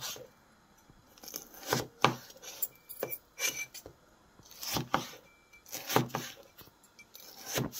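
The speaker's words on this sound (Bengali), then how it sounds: "এরকম সাইজ করে নেব পেঁপেগুলোর" Green papaya is cut into pieces with a knife, giving a series of irregular, fairly crisp chops and thuds on a board with brief pauses between strokes, close and moderately quiet.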